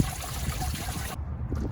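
Water trickles and gurgles through the heater core hoses of a 2003 Nissan Altima 3.5 during a flush, a steady close wash of flow that briefly thins out and returns.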